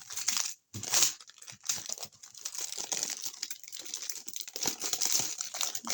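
Plastic packaging from a Temu haul being torn and crinkled open up close, a continuous busy crackling and rustling with sharper crunches, loud and near, with no speech.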